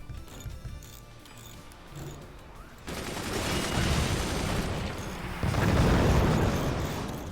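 Weapons firing at the player in the Forts strategy game: sustained rumbling barrages of cannon and explosion sounds that grow heavier partway through, with a second surge of loud blasts near the end.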